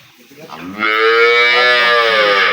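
A Sahiwal-Jersey dairy cow lets out one long, loud moo nearby, rising and holding steady for a couple of seconds.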